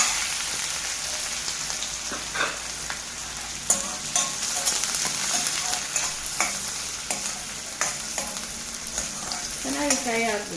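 Finely chopped onions frying with mustard seeds and cumin in a pan for tomato rice, a steady close crackling sizzle with intermittent spoon stirs and scrapes; no talk.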